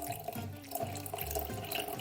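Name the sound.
PuckerFuel sample being mixed with water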